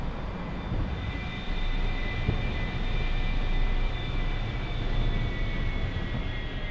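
Jet engine roar of an A-4E-C Skyhawk in the DCS World flight simulator, a loud, steady, broadband rush with a faint high whine, continuous throughout with no talking.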